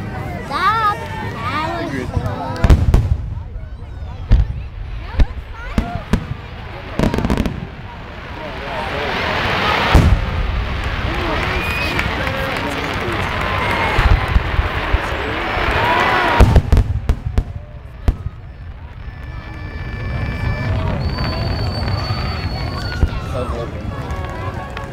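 A Fourth of July-season fireworks display in Rumson, New Jersey, in 2010 fills the air with repeated loud bursts and crackling over steady crowd noise, while people nearby talk and call out.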